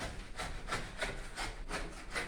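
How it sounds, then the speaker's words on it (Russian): Scrubbing strokes rasp rhythmically across a window glass coated with leftover cement and old film after renovation, roughly six even back-and-forth passes, close and fairly quiet. "Моем окна после ремонта, скорее даже после строительства."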